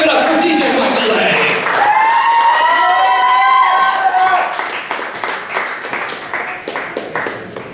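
Audience at an open mic night at Churchills applauding and cheering, a loud burst of clapping with whoops and shouted voices that gradually thins out toward the end.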